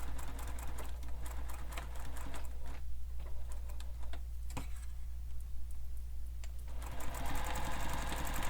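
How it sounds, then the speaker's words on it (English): Sewing machine back stitching over a flap tab on a sling pack, a steady rapid needle clatter running throughout with a few sharper ticks and a brief lighter stretch in the middle. "When you get to where the flap tab is, you can back stitch over that just to add some extra security."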